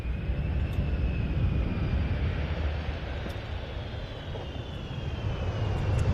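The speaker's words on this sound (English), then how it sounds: "It is indeed an Emirati C-17." An Emirati C-17 military transport aircraft arrives at the Royal International Air Tattoo, its engines a steady, moderately distant roar with a faint high whine that stays even throughout, no talk.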